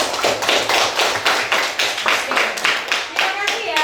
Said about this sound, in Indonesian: tepukan buat kalian semua